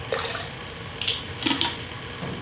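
Water pours and splashes into a bucket while seeds are being started, a continuous watery hiss broken by a few brighter splashes and drips, close and fairly loud, with no talking.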